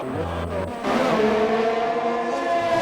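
F1 race cars in a racing video game on a long straight at the Russia track, a steady high engine whine that rises and shifts as cars run close together, loud with no talk.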